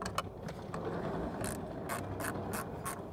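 Ratchet clicking as bolts on a car's center console are loosened, sharp bursts of rapid pawl clicks repeating at close range over a steady mechanical background.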